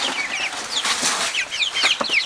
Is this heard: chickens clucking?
yes